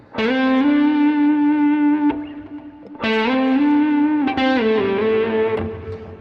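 Heavily distorted electric guitar plays sustained, buzzing chords in two long phrases, loud and close with a gritty, saturated tone.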